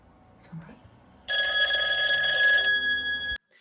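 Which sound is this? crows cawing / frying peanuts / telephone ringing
telephone ringing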